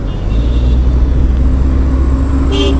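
Traffic rumbling along a busy city expressway, a dense continuous low roar of cars and motor vehicles close by, with a brief higher whine near the end, no speech.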